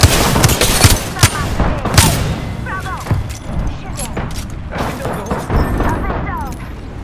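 Gunfire in the video game Apex Legends, a dense run of sharp shots and rapid bursts with thuds and chirping effects, steady and loud, while a voice speaks over the action.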